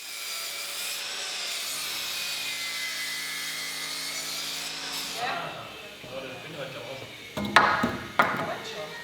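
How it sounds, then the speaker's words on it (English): A power saw whines steadily while cutting wooden wall studs to length for office wall framing in a workshop, then stops, followed by knocks and clatter of timber being handled. "Then we could mark and measure all wall studs and cut them to length."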